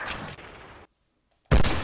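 A sniper rifle in a Minecraft gun mod: a loud, sharp shot at the start and another after a brief silence, both booming with a short tail.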